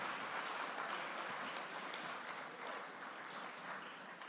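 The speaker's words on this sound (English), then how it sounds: "I think he deserves a round of applause." Audience applause at a cybersecurity conference, a continuous, even wash of many hands clapping, heard fairly faintly as if from a distance and holding steady throughout.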